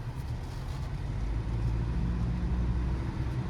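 A 2024 pickup truck, either a Chevrolet Colorado ZR2 Trail Boss or a Toyota Tacoma TRD, drives on a test drive, its engine and road noise forming a steady low rumble heard from inside the cab, with no talking.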